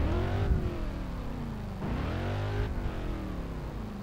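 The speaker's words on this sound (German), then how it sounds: "Das kommt davon, wenn man 7 Liter V8 Hemi-Motor hat." Big 7-litre Hemi V8 of a car in the racing game Test Drive Unlimited 2, revving up in two rising surges with a steady rumbling idle between them, loud and close, no talking.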